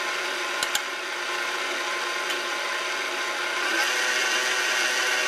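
Electric mixer beating red velvet cupcake batter, a steady, close, loud motor whir with a high buzzing tone that holds constant throughout, with a couple of brief clicks near the start and no talking.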